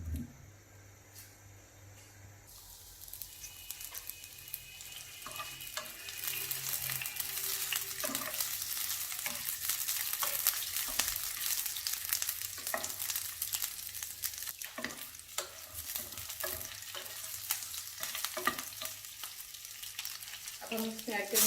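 Sausages frying in about two tablespoons of hot oil, a loud, continuous sizzle that swells after a quieter start, with scattered pops and stirring clatter.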